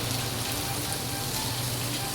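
Heavy rain pours down during Typhoon Kristine, a dense, continuous hiss of drops on surfaces, loud and unbroken with no voices.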